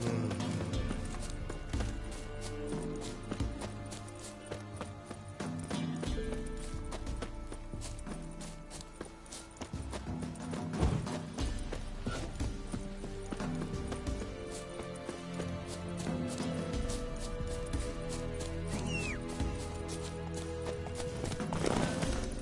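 Roach the horse galloping in The Witcher 3, a steady rapid clip-clop of hooves throughout with occasional whinnies, set against game music and ambience.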